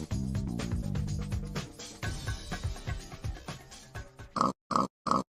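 A Minecraft pig oinks in the video game, giving three short, clipped grunts at the very end after a busy stretch of game music and noise.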